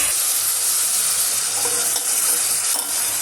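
Onions, tomato, potato, chillies and carrot frying in a pan for veg biryani, a loud, continuous sizzle with faint scraping of the stirring spoon, close by with no talk.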